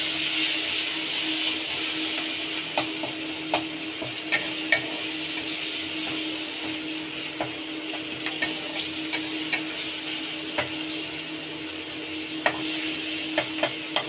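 Spice paste with slit green chilies and chopped tomato frying steadily in a pan for a Bengali khirod katla fish dish, a constant close sizzle broken by intermittent sharp clicks and taps of a stirring utensil.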